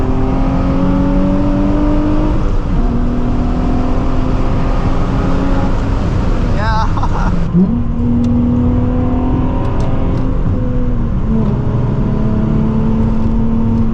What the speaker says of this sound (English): Got to do at least one freeway on-ramp pull just to see, you know, just to see how it's doing